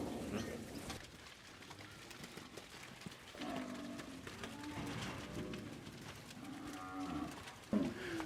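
Cattle moo repeatedly as a mob is worked through a gate during weaning, several low drawn-out calls at moderate distance, with pigeons cooing faintly in the background.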